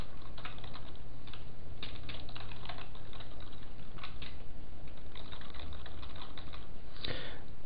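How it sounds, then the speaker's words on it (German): Rapid typing of random letters on a computer keyboard, a dense, uneven run of close, loud key clicks with brief pauses throughout and a heavier stroke near the end. "fangen an, eine zufällige Kette von Buchstaben zu schreiben"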